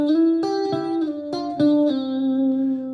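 Electric guitar blues lick, a few sharp plucked notes, then a double slide down into a long sustained ringing tone, played alone.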